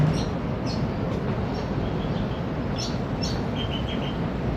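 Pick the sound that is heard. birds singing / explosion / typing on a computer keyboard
birds singing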